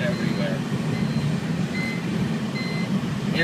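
Seatbelt warning buzzer in a 2006 BMW Z4 3.0si on a pothole-covered road, short tonal beeps repeating at a steady interval over loud road and engine rumble.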